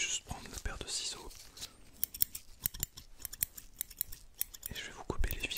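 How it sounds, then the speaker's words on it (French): Metal scissors snip through stitches at close range in a whispered French doctor roleplay, giving a run of sharp, crisp clicks with brief whispering heard at the start and end. "Je vais juste prendre la paire de ciseaux."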